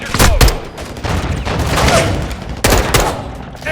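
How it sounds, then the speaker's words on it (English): Dense bursts of rapid gunfire from the Modern Warfare 2 campaign, loud and close, with overlapping shots, a sharp crack near the start and another volley near the end. "The gun sounds are impeccable."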